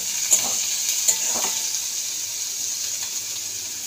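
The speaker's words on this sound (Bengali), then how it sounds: "রসুনটা একটু ভাজা হোক।" Grated garlic frying in a pan, a steady bright sizzle holding throughout with a couple of sharp spatter pops early on and faint scraping of a spoon.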